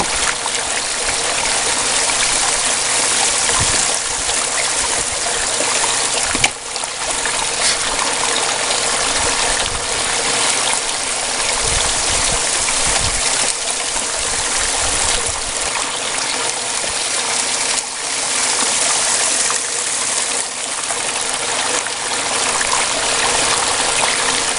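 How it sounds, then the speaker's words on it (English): Water rushes and trickles steadily through a Royal Manufacturing backpack sluice box, a loud continuous stream close by that keeps an even wash from start to finish with no talking. "it does leak some water"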